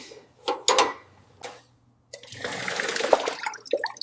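Old coolant draining from the radiator of a 1930 Oliver Hart-Parr tractor: a few metallic clanks and knocks, then a pause, followed by a steady gushing, splashing flow of liquid, close by.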